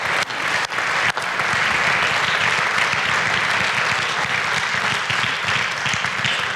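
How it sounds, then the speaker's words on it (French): An audience at a business awards ceremony, the Trophées des Entreprises de la Nièvre 2024, breaks into dense, sustained applause, a loud, even wash of many hands clapping without a break. "On les applaudit une nouvelle fois pour cette première photo de famille."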